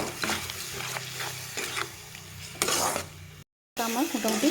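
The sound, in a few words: frying tomato and chili paste with coriander and cumin powder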